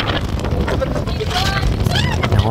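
Strong wind buffets the microphone in gusty, rumbling rushes outdoors, with voices faintly mixed into the noise.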